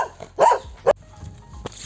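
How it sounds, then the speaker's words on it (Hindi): A household dog barks at someone it fails to recognise, two loud close barks in quick succession followed by a fainter third bark, with no talk over them. "यहाँ हमारा कुत्ता मुझे पहचानने से इनकार कर गया, मेरे पीछे पड़ गया था"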